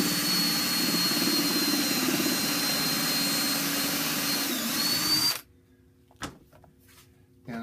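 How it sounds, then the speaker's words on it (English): A power drill whines loudly and continuously for about five seconds while drilling a pilot hole in pine, then stops abruptly, leaving quiet with a couple of faint clicks. "I am going to drill a pilot hole for this."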